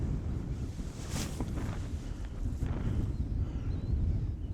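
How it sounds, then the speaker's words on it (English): Stiff headwind blowing across a hilly disc golf course, a steady loud rush of wind buffeting the microphone throughout with no talking. "Stiff headwind."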